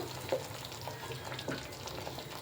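A masala mixture with salt fries in oil while being stirred, a soft, continuous sizzle with faint scraping at a low level and no voices.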